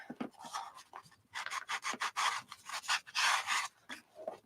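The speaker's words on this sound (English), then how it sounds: "I'm going to do some sandpaper here" Sandpaper is rubbed by hand over an art journal page in repeated short, scratchy strokes, a rhythmic series of close, breathy rasps with brief pauses between them.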